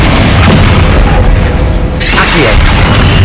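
Loud booming blast of the Confringo explosive spell in Hogwarts Legacy, a dense sustained roar that drops briefly and then swells again, with voices over the noise.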